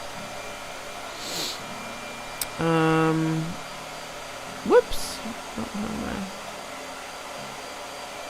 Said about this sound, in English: hold on here. Blow dryer.